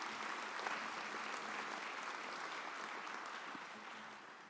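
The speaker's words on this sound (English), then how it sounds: "let's give you a round of applause for your family" A crowd at a School of Dentistry graduation ceremony applauds the graduates' families, a steady, even wash of clapping heard from a distance that tapers slightly toward the end.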